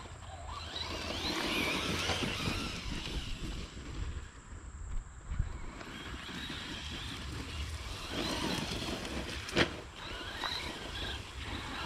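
A Traxxas Hoss RC truck runs across grass off-road, its motor whine and tire rustle forming a steady, fairly loud continuous noise with a brief dip midway and a sharp knock near the end.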